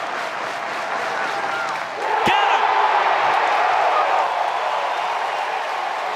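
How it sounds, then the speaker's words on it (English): A packed college baseball stadium crowd on the plains at Auburn erupts into loud, sustained cheering and roaring after a quiet moment, with a shouted cry and a sharp clap near the start of the swell. "This crowd erupts on the plains."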